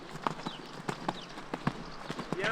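Horses' hooves clip-clop in steady, rhythmic strikes during a show-jumping lesson at La Sauvenière, each sharp thud close and distinct over a quiet arena background.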